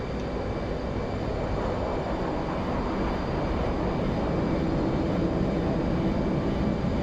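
Steady, loud drone of a small airplane's engine in flight, heard from inside the cabin on a Saturday day flight near a runway, continuous broadband roar with no talk.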